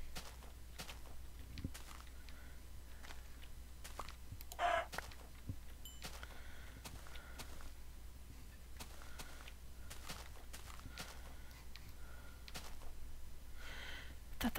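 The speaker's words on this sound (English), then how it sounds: "Chicken and an egg." A Minecraft chicken gives a few soft, scattered clucks over a quiet ambient background, interspersed with faint footstep-like taps.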